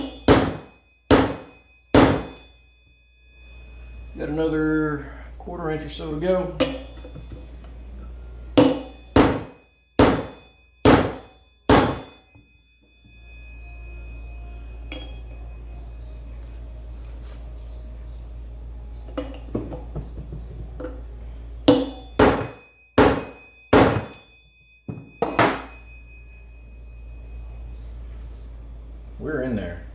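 Repeated loud, sharp metallic blows of a 4-pound hammer driving wheel bearings into a Moto Iron springer front hub, struck in quick bursts of several hits separated by pauses, with someone talking between the bursts.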